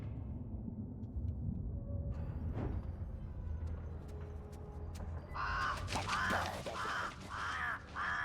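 Crow-like caws from a bird in the video game The Lord of the Rings: Gollum, a run of harsh repeated calls over a low ambient game rumble, fairly close and loud.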